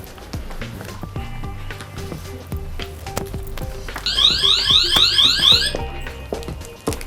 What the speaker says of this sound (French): Monsieur, vous avez déclenché l'alarme